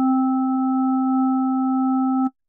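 A VR LFO instrument prototype emits a steady, unwavering sine tone with faint overtones, loud and constant for about two seconds before it stops with a soft click, with no other sounds.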